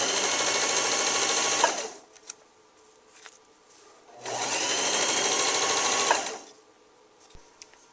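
A sewing machine stitches a pillowcase seam in two loud, close bursts of rapid whirring lasting about two seconds each, separated by a quiet pause with small clicks and handling noises.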